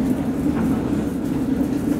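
A train's steady low rumble and hum fill the clip, the sound of a carriage rolling slowly, with faint clatter and no talking.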